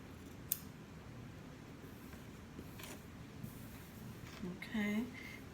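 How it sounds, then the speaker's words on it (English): Scissors snip through a cotton T-shirt in a spiral to make a single long strand of yarn, giving a few quiet, faint cutting clicks and rustles against a low background hiss, with a brief voice near the end. "it's like a spiral as I cut up the shirt"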